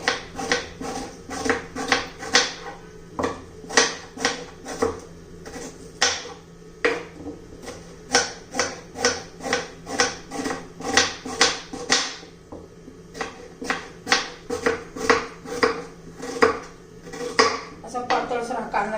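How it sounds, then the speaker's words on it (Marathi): An onion is sliced lengthwise with a knife on a cutting board, giving a steady run of sharp, rhythmic chops close by, with brief pauses and no talking, for a spicy green chilli side dish. "कांदा चिरून घेणार आहोत उभा चिरून घ्यायचंय"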